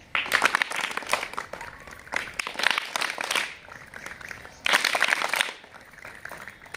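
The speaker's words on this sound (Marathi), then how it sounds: "तुमच्यासाठी सुद्धा एकदम मस्त खोबरा टाळी" A group of seated schoolchildren performs a rhythmic clapping pattern in a classroom, sounding as uneven bursts of many hands clapping together, separated by short quieter gaps and fairly close.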